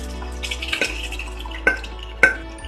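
Mutton and vegetables are stirred in a pan with onion and tomato, giving a soft low sizzle broken by a few sharp scrapes and clinks of the spoon against the pan.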